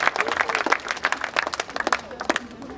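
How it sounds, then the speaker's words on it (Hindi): Audience at a live comedy show clapping loudly, a brisk flurry of sharp, close hand claps with uneven rhythm that thins out toward the end. "इतनी जोर से ताली बजे, उनको लगना चाहिए कि ढंग का कार्यक्रम यही हो रहा है"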